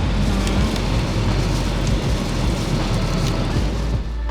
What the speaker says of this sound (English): it's freaking raining outside